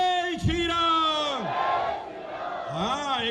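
A political rally crowd in Madhya Pradesh roars a chanted slogan back in unison, loud rising and falling shouts from many voices that swell, dip, then surge again.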